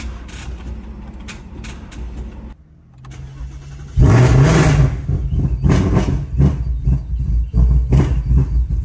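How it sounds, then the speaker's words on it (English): A Ford Mustang that was bought back after being totaled cranks briefly, pauses, then fires up loudly and revs to a strong, uneven idle close by, with no talking. "We're gonna go ahead and try to start it."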